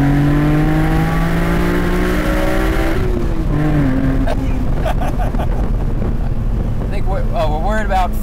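A BMW M Roadster engine revs hard at high rpm, its rising harmonic pitch dropping at a gear change, then wind roar and road noise take over as it pulls on. Voices are heard over the engine.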